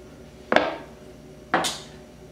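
Two separate thuds of pork being set down into a crock pot, each a short, close clunk against the ceramic, about a second apart with quiet between.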